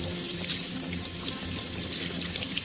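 Tap water runs steadily from a faucet while a Barbie doll's hair is rinsed in it, a close, continuous splashing hiss with no speech.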